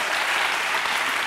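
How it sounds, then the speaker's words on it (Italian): A TV studio audience applauds on an Italian talk show, a dense, even wash of clapping that stays steady and fairly loud throughout. "Applausetto."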